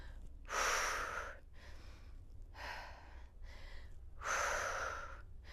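Three forceful breaths during a core-strengthening exercise: a sharp exhale, a softer breath, then another strong exhale, each a breathy rush separated by quiet pauses.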